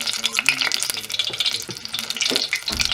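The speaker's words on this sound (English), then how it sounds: "Onion rings, and we're gonna dip them in our batter, and then we're gonna flip them in here also." Battered onion rings frying in hot oil, loud bubbling sizzle with stirring and clinking of a utensil in the pot, busy and close throughout.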